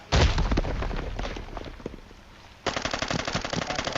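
Rapid bursts of automatic gunfire in the video game Arena Breakout, loud and close, with a short lull before another sustained volley of shots.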